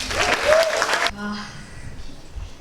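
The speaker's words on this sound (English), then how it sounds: "Please give a warm welcome, a warm round of applause for Ms. Ruxandra Mercea." Applause from a graduation audience at an international school plays for about a second, then cuts off abruptly, leaving a quiet room with faint background sounds.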